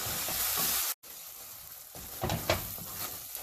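A vegetable biryani mixture fries in a pot with a steady sizzle, briefly cutting out before resuming under occasional scraping stirs of a spoon; no speech.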